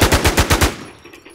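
Rapid automatic gunfire in the online survival shooter The War Z during PvP action, a close, loud burst of about six shots in quick rhythm, then a brief fading tail.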